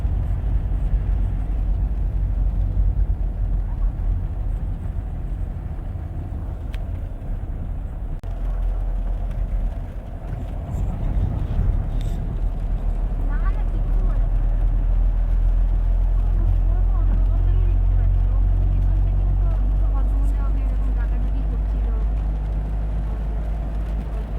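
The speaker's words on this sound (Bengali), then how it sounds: "আমরা এগিয়ে চলছি গাড়ি নিয়ে সেবকের দিকে" A car drives along a rain-wet road near Siliguri toward Sevoke in light drizzle. A loud, steady engine and tyre rumble fills the cabin throughout, with a brief dip midway.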